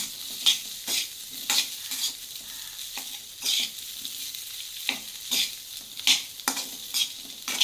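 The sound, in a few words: sautéing medium-cut slices in a pan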